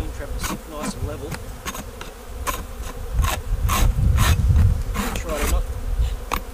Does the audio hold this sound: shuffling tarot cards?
no